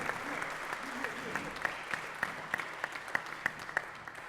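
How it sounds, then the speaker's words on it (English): Church audience applause welcoming two people on stage, sparse and faint, with a few distinct claps standing out in a loose rhythm under a faint voice. "Please give a round of applause for Sylvie and Eli, everybody."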